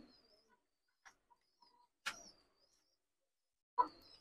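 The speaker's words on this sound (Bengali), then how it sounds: "এই যে কবুতরগুলো" Pakistani teddy pigeon chicks coo in a few soft, widely spaced calls, with faint chirps between them against an otherwise quiet background.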